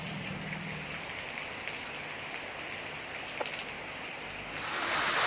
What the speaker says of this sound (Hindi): जिलार विभिन्न स्थान में मूषलधार वर्षा लगी रही